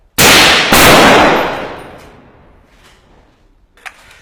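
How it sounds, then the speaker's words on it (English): Soldiers fire rifles in a combat zone in Marawi. Two rapid, very loud, close reports arrive almost together and fade through a long echo. A faint distant pop follows near the end. "We just shot fired, so we expect a counter attack to us."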